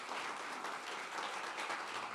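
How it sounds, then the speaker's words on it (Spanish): A church congregation applauds, producing steady, moderately distant clapping from many hands that fills the hall evenly, with no voices on top. "Dale un aplauso al Señor por esos hermanos y hermanas"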